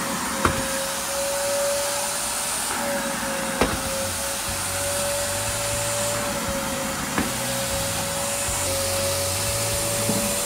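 A vacuum sucks up stripped floor wax during a large commercial strip-and-wax floor job, a loud continuous whine with a steady tone and a few faint knocks, alone without talk.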